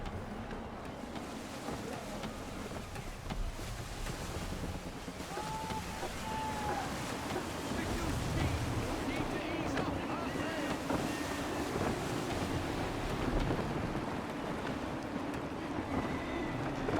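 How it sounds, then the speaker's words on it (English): Gusty wind buffets a sailing ship at sea in Assassin's Creed III on PS4, a continuous rushing roar with waves washing beneath, swelling slightly louder midway, with faint voices in the background. "Gusty winds can be difficult to manage."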